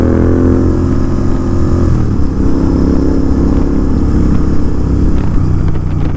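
Royal Enfield GT650 twin-cylinder motorcycle on a night ride, its engine droning loud and steady throughout with a rough, throbbing exhaust note and a slight shift in pitch partway, no voices.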